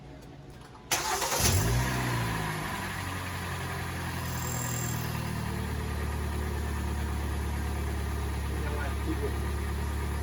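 A 2013 Hyundai Elantra engine cranks and catches after a short quiet lead-in, revs briefly, then settles into a steady, close idle during tie rod replacement work.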